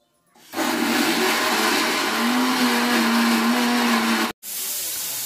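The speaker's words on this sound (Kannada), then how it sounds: "ಸ್ಪೆಷಲ್ ಮಸಾಲಿ ಹಾಕ್ ಮಿಕ್ಸಿಗೆ ಗುರ್ರ ಗರ್ರ ಅನಸೆ" A mixer grinder blending masala whirs loudly and steadily for about four seconds, stops abruptly, then starts running again at once, close to the microphone.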